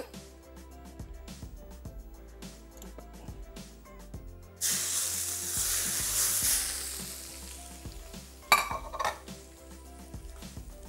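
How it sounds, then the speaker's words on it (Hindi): Tadka of tempering spices hitting hot oil gives a sudden loud sizzle partway through, hissing steadily over soft background music with a brief clatter of utensils near the end. "मज़ेदार सा तड़का लग गया"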